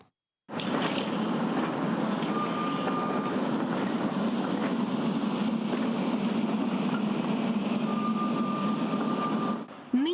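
Tram rumbling inside a tram depot of the Zaporizhzhia city electric transport network, a steady loud low rolling drone with faint high whines and squeals, running continuously for about ten seconds before cutting off.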